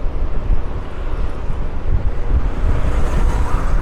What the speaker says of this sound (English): Tell you what, it's so windy.